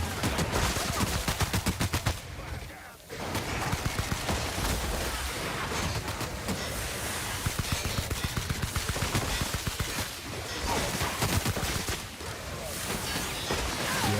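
An auto rifle fires in The Outer Worlds video game, rapid bursts of automatic gunfire with brief pauses, loud and dense against a busy background of game sounds and faint talk.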